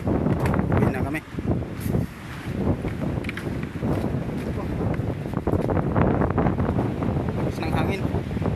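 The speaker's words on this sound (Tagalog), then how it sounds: "Lakas ng hangin." Strong wind buffets the microphone at a beach, a continuous roaring rumble with gusts that swell and ease, and surf washing underneath throughout.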